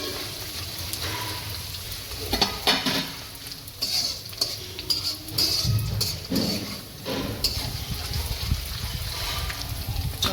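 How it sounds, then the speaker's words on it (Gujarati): Sesame seeds hit hot oil on a low flame while cooking bajra-methi muthiya, producing a steady close sizzle and crackle with scraping, stirring clatter from a spoon against the pan. "હવે આપણે તલ નાખી દઈશું બધા"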